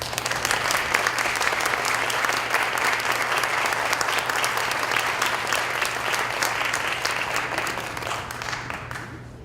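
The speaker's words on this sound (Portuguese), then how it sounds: "Aplausos." An audience at a literary festival applauds as writers are invited onto the stage, dense sustained clapping filling the room and tapering slightly toward the end.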